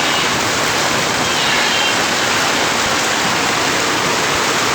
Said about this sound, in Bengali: বৃষ্টি এমনভাবে হইতেছে, বৃষ্টির সিজ সকল আসতেছে দোকানের ভিতরে